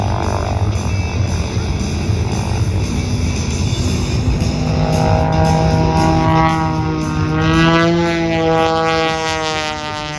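A 350-horsepower, 1,400-pound aerobatic propeller airplane performs at the Dayton air show, its engine drone swelling and shifting in pitch as it sweeps past, loud and with almost no talk over it.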